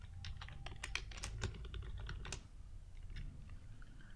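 Steady computer-keyboard typing as values are entered into a PHP and MySQL record form, a quick run of clicks that fades after about two seconds into sparser taps, close and moderately loud over a low hum.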